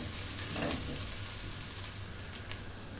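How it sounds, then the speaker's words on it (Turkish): Tomato paste sizzles steadily in a hot pan while being sautéed for a Turkish minced-meat cabbage stew, a continuous close frying crackle with a brief stirring scrape, no voices. "salçayı da güzel bir şekilde kavuruyoruz"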